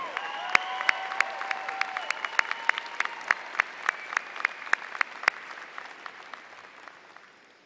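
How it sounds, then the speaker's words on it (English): Applause from a crowd at a high school graduation, with sharp individual claps standing out over a softer wash that slowly fades, while a held musical tone lingers early on. "how about a round of applause for your parents and guardians for all they've done for you?"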